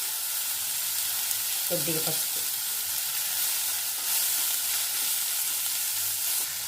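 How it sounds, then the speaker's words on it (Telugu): Ridge gourd frying with a little turmeric in a pan for a milk curry, giving a steady, close, continuous sizzle and crackle that runs the whole time. "వీటిని బాగా వేపుకుంటాం. దీంట్లో కొద్దిగా పసుపు"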